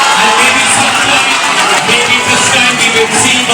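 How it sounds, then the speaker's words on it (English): A school audience gives a standing ovation at an anti-addiction campaign session in Kalyani, with loud, dense, continuous applause and cheering filling the room throughout and a busy crowd roar underneath. "Give him a loud round of applause."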